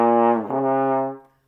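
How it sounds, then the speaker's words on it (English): A trombone holds a sustained brassy note while the slide moves, bending the pitch into a smooth glissando with a brief dip in the middle, then fading out after about a second and a half, played alone. "You can't try to play and move your slide at the same time because it sounds like"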